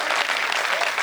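Audience at a Hindi kavi sammelan poetry event breaking into steady, dense applause, loud and close, filling the whole brief moment without talk.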